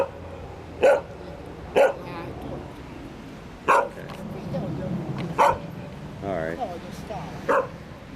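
A dog cooling off in a lake in City Park, Budapest, barks in short, sharp bursts, about six or seven times with irregular pauses, fairly close, over a low background rumble.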